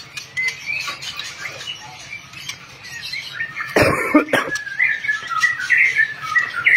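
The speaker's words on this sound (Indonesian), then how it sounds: "Nah, ini burunya Bos Eka Patoni, tak perlihatkan ya" A caged songbird chirps and whistles in short, bright phrases at close range over a low background murmur, growing busier toward the end.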